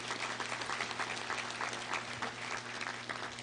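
A crowd at a Little Rock Touchdown Club meeting claps steadily and densely for several seconds, an even wash of applause with a faint low hum underneath and no clear voices.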